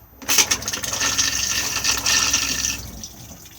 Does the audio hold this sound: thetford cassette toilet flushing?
yes